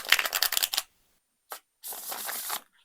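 Bursts of papery riffling as a deck of tarot cards is shuffled, a long run, a quick flick, then another steady riffle, close and crisp with no talking.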